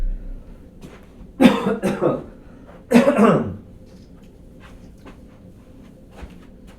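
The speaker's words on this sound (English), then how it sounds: "I just have to clear my throat." Two loud, harsh throat-clearing coughs from someone close by, separated by a short pause, then near quiet with faint small noises.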